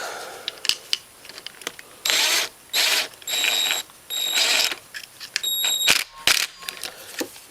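A 10 millimeter ratchet tightens a tensioner bolt on a Honda Recon 250 ATV engine, giving several short bursts of sharp metallic clicking close by, separated by brief pauses.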